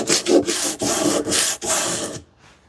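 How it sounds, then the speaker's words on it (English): Coarse grit sandpaper rubbed over the edges of a wooden shoe tidy in hand-tool woodworking, a close, loud series of about five rasping back-and-forth strokes that stops abruptly into quiet. "I'm using a coarse grit sandpaper right on the edges where there is a"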